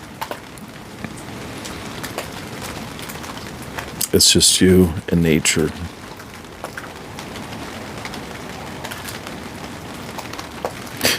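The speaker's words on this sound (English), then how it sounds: "listening to the rain dropping." Rain falls steadily during an outdoor storm, a soft, constant hiss and patter throughout, with a voice briefly speaking over it partway through.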